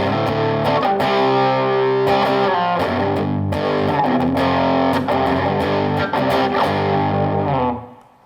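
Electric guitar power chords played through heavy distortion ring out loud and continuous, thick sustained chords with a few rhythmic changes, then cut off and fade at the end.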